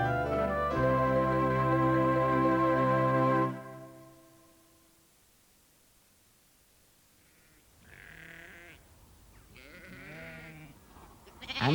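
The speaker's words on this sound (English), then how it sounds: "Do you think Auntie Ellie could be somewhere amongst all these ewes?" A sustained harmonic tone fills the opening seconds, then after a quiet gap several ewes bleat in wavering calls, fairly close.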